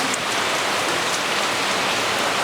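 Steady rain falls in a dense, even hiss on surfaces outside a home during the monsoon Dashama vrat season, loud and continuous with no distinct drops or thunder standing out.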